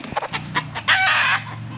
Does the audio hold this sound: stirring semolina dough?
no